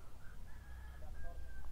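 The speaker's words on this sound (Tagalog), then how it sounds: "Yun yung mga ibon." Faint, thin bird calls drift in from a distance, a few whistled notes over steady low background rumble and noise.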